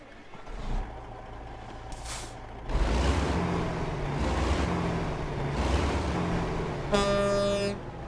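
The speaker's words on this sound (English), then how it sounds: "let's get this Kenworth started up because it's been quite a while since she's been running" A Kenworth truck in American Truck Simulator starting up, with a hiss of air and a steady low diesel rumble that swells as the engine catches, then a short tonal hoot near the end, with no talking.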